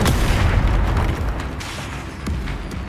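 A Confringo blast spell detonates in the Hogwarts Legacy video game, a loud booming explosion with sharp cracks and a rumbling low tail that fades over a few seconds, no voices over it.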